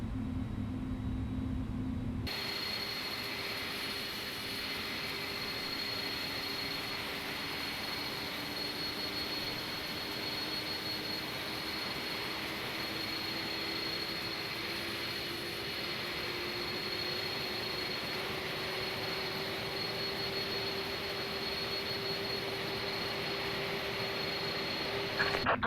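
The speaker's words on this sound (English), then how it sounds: "Looks like we have 2 good engine starts." Simulated Airbus A310 jet engines running up in Microsoft Flight Simulator, a steady loud broadband roar with a rising whine that holds constant for the full length, no voices.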